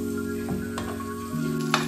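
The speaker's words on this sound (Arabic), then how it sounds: "انا راح اشوحه تشويح عادي بزيت زيتون فلفل اسود وملح" Chicken breast sautéing in olive oil with black pepper and salt gives a steady, close sizzle and crackle throughout, with no talk.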